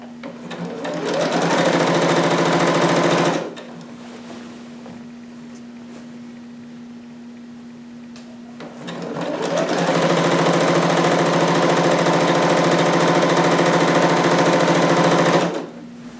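Sewing machine stitching a harem jumpsuit, running in two loud, steady bursts of rapid mechanical whirring separated by a few seconds of quieter motor hum, close and alone.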